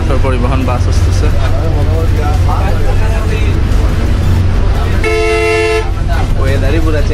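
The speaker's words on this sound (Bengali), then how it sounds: "সাদা পাথর পরিবহন বাস আসতেছে।" A Sada Pathor transport bus honks on a foggy, stone-strewn road near Sylhet, its horn a loud sustained harmonic toot near the end, over steady engine rumble and talk.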